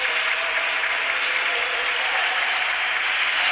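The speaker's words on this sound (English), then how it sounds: "The applause is already starting up for him." A crowd at a 1967 St. Louis Cardinals baseball game applauds a pitcher with steady, sustained clapping that holds an even level from start to finish, with no voices standing out.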